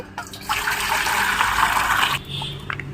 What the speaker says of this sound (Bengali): আমি বাটিতে জল দিয়ে দেবো